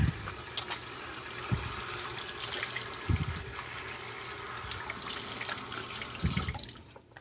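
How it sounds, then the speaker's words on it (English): Running tap water splashes steadily into a sink while hands are soaped and washed under the stream, with occasional louder splashes and rubbing, close by, before the flow stops near the end. "Wash those hands up real good"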